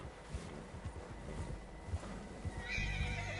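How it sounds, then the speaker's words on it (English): Several horses in the Red Dead Redemption 2 video game whinny and snort over a steady bed of muffled hoofbeats and wind, closer and louder toward the end. "Horses, quite a few of them."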